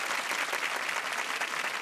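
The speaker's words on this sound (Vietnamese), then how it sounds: "Một tràng pháo tay trước đã rồi" Audience applause at a Vietnamese television talent show, steady dense clapping from a crowd that stays even in loudness and fills the whole clip.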